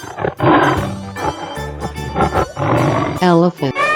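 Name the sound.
tiger roaring in a 3D animal video game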